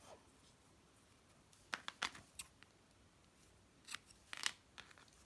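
Scissors cut a strip of felt fabric in two short clusters of faint, close snips, with quiet pauses between them.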